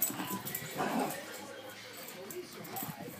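A dog in the video game Light Doggy gives soft, whiny whimpers and yips close by, mostly under a person talking over them.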